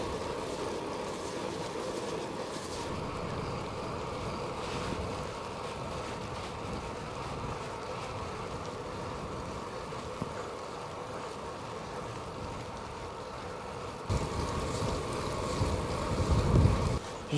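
Wind rushing and buffeting a microphone while cycling outdoors on an overcast day during a winter ultra-distance ride, a steady close roar that turns rougher and louder in a brief gust near the end.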